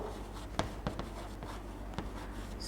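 Pen or pencil writing in a maths exercise book, a quiet scratching with a few sharper strokes at irregular intervals over a steady low background hum, with no talking.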